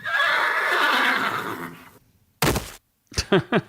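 Horses neigh in a long, loud whinny that fades out, followed after a pause by a few short, sharp snorts and calls.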